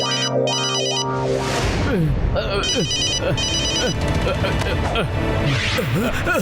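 A telephone rings repeatedly as a call is placed in a cartoon, bright electronic trilling bursts that start and stop, loud and up front, mixed with music and sound effects.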